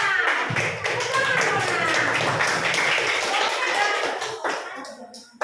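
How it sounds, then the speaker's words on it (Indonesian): Applause from a class of fifth-grade pupils for a group of classmates, dense rapid hand claps filling the room with children's voices mixed in, tapering off near the end. "Beri tepuk tangan untuk kelompok 5"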